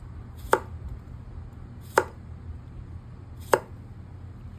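A San Mai chef knife chops through food on a cutting board in three sharp, separate strikes about one and a half seconds apart, each a crisp close knock against a quiet room.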